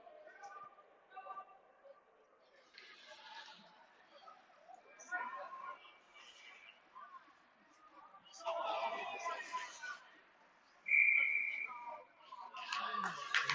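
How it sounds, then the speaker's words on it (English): A referee's whistle gives one brief, sharp blast at a youth peewee ice hockey game between Wayzata and PL, heard amid rink noise while a commentator keeps talking throughout. "It goes off the Lakers bench and going to get a whistle"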